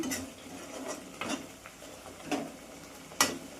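Gobi masala curry sizzles faintly in a pan under a few light scrapes and metallic taps from a stirring spoon, quiet and near, with no talking.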